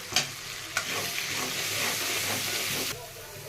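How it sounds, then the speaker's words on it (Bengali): Ginger and ground spices fry in hot oil in a kadai, a dense hissing sizzle broken by a couple of sharp stirring clacks early on, then steady until it drops off near the end. "আদাটা ভাজা ভাজা হয়ে গেছে। এবার আমি এই গুঁড়ো মশলাগুলো দিয়ে দেবো।"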